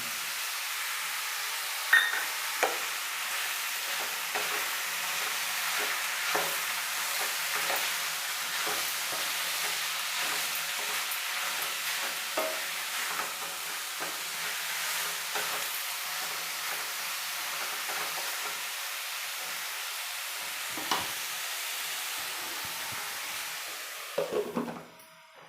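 Crushed garlic frying in a pan for a bitter gourd palya, a steady close sizzle lasting throughout with occasional spatula scrapes and knocks from stirring, no voices.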